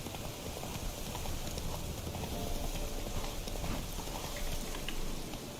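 Horse hooves clip-clop in a brisk, steady rhythm in The Witcher 3, close and continuous over a bed of rain-like ambient noise.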